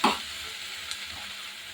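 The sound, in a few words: stirring fried cauliflower manchurian in soy sauce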